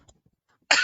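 A single short, abrupt cough from a lecturer, close and fairly loud, arriving after near silence with only faint breathy sounds before it.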